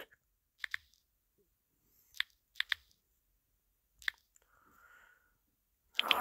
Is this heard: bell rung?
no